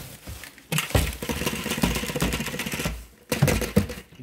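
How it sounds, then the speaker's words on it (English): Dirt and debris from a Dyson vacuum bin are emptied into a garbage can in several close, clattering bursts of rattling and rustling, separated by short quiet gaps. "Let's empty this bin in the garbage."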